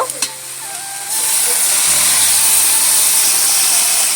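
Water poured into a hot pan of frying banana stem sets off a sudden loud sizzle after a few light clinks of the utensils, and the hiss then stays strong and steady while the mixture is stirred.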